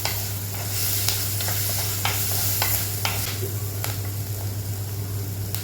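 Onions being sautéed in a pan for mushroom pepper fry, a continuous close sizzle with faint periodic scrapes of the spatula roughly once a second, steady and unbroken, no speech.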